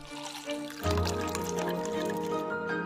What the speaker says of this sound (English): the smart water purifier that provides clean, crisp water with one touch